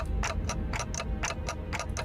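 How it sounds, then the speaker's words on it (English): A clock ticks in the video game Limbus Company, sharp evenly spaced ticks about four per second, loud and close over a low rumbling background. "ticking is all I can hear."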